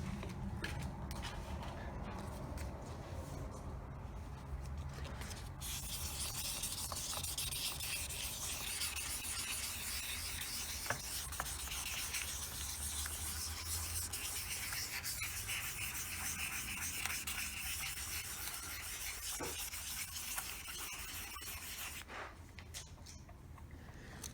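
Wet sanding an ATV dash by hand with 1200 grit sandpaper, a faint, continuous rubbing and scraping texture with soft irregular strokes over about twenty-four seconds.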